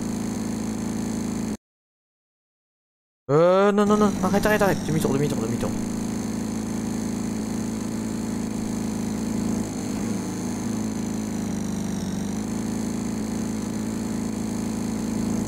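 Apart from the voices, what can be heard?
tractor engine driving in a video game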